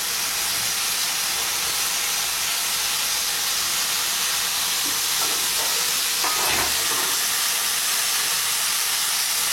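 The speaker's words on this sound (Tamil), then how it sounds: "உருளைக்கிழங்கு சேர்த்ததும் வாழைப்பூவோட நல்லா மிக்ஸ் ஆகிற அளவுக்கு வதக்கணும்" Potato and chopped banana flower sautéing in a pan for cutlets, giving a steady close hiss and sizzle with a few stirring scrapes near the middle.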